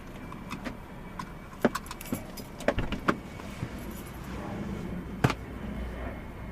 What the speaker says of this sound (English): I'm gonna put my keys here.